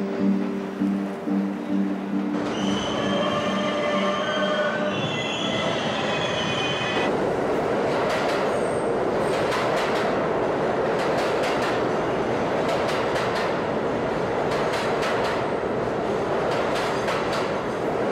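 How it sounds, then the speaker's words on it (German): A train heading to Britz rumbles along steadily, wheels rattling and squealing on the rails, with tonal brake or wheel whines early on. It stays loud, close and continuous, with no talking. "Hier der Zug auf dem Weg nach Britz."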